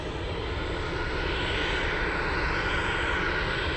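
An MD-11 airliner taxis slowly at Anchorage airport, giving off a loud, steady engine roar and whine that holds level throughout, with no voices.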